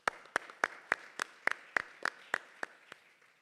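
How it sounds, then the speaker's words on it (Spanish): Applause for Paloma at a Gran Canaria entrepreneurship week event, heard as about ten sharp, evenly spaced claps, moderately close and fairly quiet, with no talking. "Un aplauso para Paloma."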